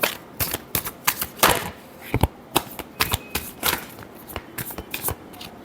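Tarot cards being shuffled by hand, a close series of crisp, papery riffling bursts and slaps in an uneven rhythm, with no voices.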